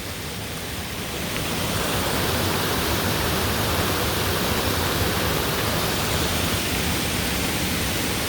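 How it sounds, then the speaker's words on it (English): A flooded farm pond overflows its dam after heavy rain, the spill pouring as a loud, continuous roar of falling water that swells slightly in the first second and then holds steady, with no talking. "We got a waterfall."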